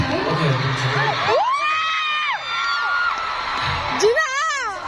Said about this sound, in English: Let's give them a round of applause, guys.